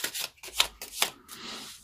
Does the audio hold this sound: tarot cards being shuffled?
yes